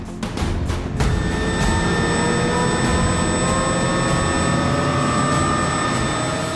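An Apache attack helicopter escorting a Chinook in Afghanistan spools up loudly and lifts off, a continuous close roar of engine and rotor with a steady high whine rising through the sound.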